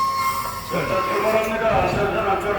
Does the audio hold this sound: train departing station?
yes